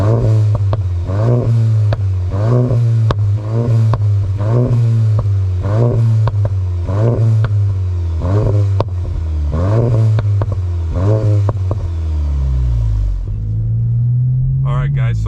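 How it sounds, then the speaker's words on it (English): A VW Mk8 GTI fitted with an ECS catback exhaust is revved repeatedly while parked, about a dozen loud, close, evenly spaced blips over a steady idle, ending in a longer rev and settle. "I'm gonna sit you guys down here real quick and do a couple more revs."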